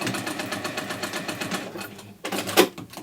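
A sewing machine stitches a magnetic bookmark in a fast, steady, close mechanical whir of repeating needle strokes, pausing briefly before a final short burst.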